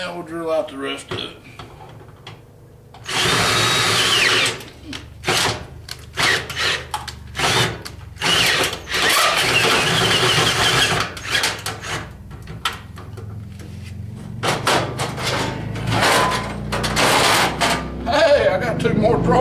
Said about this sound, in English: Now we'll drill out the rest of it.